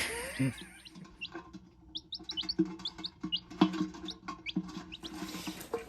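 Newly hatched gamefowl chicks peep in quick, high chirps indoors near an incubator, scattered and fairly faint, with soft handling noises beneath.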